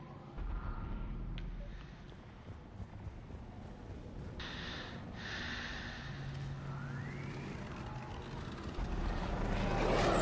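A gunship aircraft engine from the Mass Effect video game gives off a continuous loud roar and whine with a rising swell near the end, heard up close with no speech.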